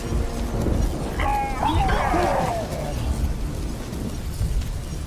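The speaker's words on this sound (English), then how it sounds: "A magic explosion of some sort." A magic explosion in The Witcher 3 rumbles heavily with a deep burst and lingering roar, while a brief screeching, cry-like sound rises over it midway through.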